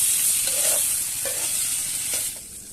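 Crab and potatoes frying in a pan outdoors in the Sundarbans, a loud steady sizzle broken by several scraping stirs of a spatula, with no voices.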